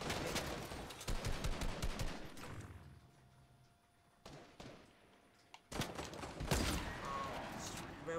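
A railgun firing in the Fortnite video game, heard as sharp bursts of shots in clusters with quieter gaps between, under a player's talk during match play.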